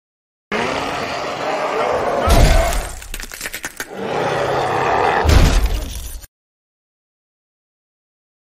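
Mutants burst into a movie scene and smash through a glass door in two loud crashing bursts of shattering and impact with growling, roaring noise, then silence.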